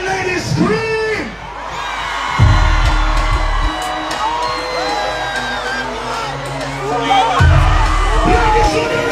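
At a dancehall performance in the UK, a concert crowd of women screams and whoops loudly, with a voice calling out over the cheering and heavy bass thumps below.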